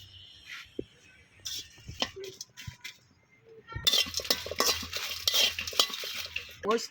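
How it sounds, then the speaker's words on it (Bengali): Dry red chillies roast in a pan, first with sparse clinks and scrapes of a utensil, then a louder stretch of busy stirring with clattering metal and a light sizzle. "এখন হলো গিয়ে এই যে মরিচগুলো টাইলা নেব"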